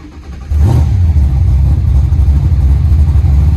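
A car fitted with a Holley Sniper EFI system cranks and fires right up on its very first startup, settling into a loud, steady, rumbling idle up close, with no talking over it.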